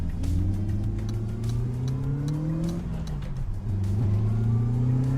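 Engine note of a car accelerating in the PC racing game Assetto Corsa, a loud steady rising whine that climbs through gears, briefly dips around a shift, then builds again, with no talk over it.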